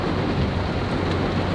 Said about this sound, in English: Crazy thunder and lightning.